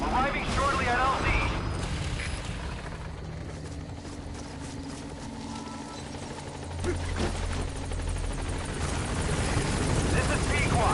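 Helicopter arriving at a landing zone in Metal Gear Solid V, a continuous whirring rotor roar that stays loud and swells toward the end, mixed with mechanical noise and other game sounds.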